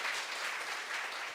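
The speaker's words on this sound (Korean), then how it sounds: "温かい拍手でお願いします" Congregation applauding volunteers at a church youth service, a brief, even burst of many hands clapping, moderately quiet and steady throughout.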